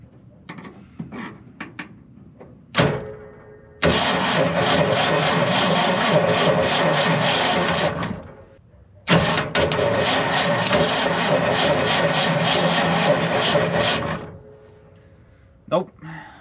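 A 1978 Ford F100 pickup engine cranks without starting in two long, loud, steady bursts of about four and five seconds, separated by a short pause, with quieter background sounds between them.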